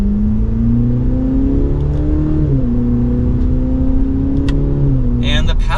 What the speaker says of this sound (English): Let's do another acceleration as we are still in sport mode.